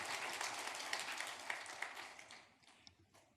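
Church congregation applauding during a Sunday worship service, a dense wash of clapping that fades toward the end, with no talk over it.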